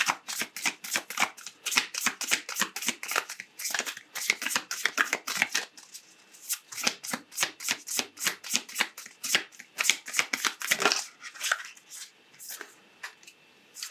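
Oracle cards being shuffled by hand indoors, a long run of crisp, rapid riffling and flicking bursts in an uneven rhythm, close and fairly soft with no talking.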